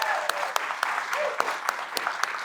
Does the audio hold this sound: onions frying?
no